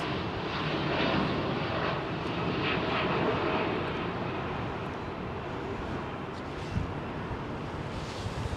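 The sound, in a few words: jet airliner departing Heathrow runway 27R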